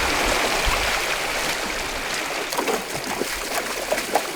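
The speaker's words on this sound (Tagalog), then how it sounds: "Paiba-iba ng agos ang malikot na ilog. Ay, ang bilis ng tubig dito." A fast, restless river rushes with shifting currents, a steady broadband wash of turbulent water carrying on without pause, with a few brief splashes toward the end.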